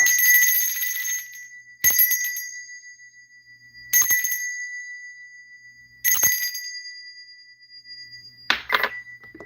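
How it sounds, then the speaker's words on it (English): A hand bell rings in a series of bright metallic strokes, about four spaced, each sharply struck and slowly decaying, loud and close, with a final jangling shake. "Let me ring this bell."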